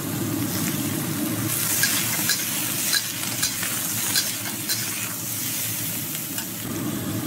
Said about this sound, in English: Give the asparagus a quick stir fry.